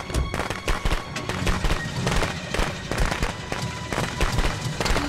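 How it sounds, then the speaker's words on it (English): Firecrackers going off in the Friday the 13th video game, a dense run of sharp popping bursts in rapid irregular succession, fairly loud throughout with some voice mixed in. "Firecrackers!"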